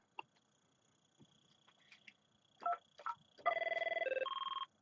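A ringtone plays on a 5410/5420 desk phone, a few soft clicks of button presses followed by a short electronic melody of steady beeping tones, clear and close in a quiet room.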